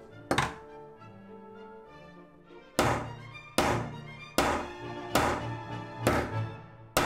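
Metal frame of a charging cable with a charging-speed display being taken apart: a single knock, then a series of five or six sharp, close knocks and clicks at a steady pace, each trailing off briefly.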